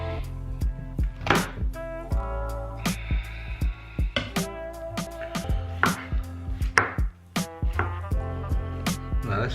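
A knife slicing mushrooms: a brisk, slightly irregular run of crisp, close cutting taps that carries on for several seconds over a steady low background hum, with no talking.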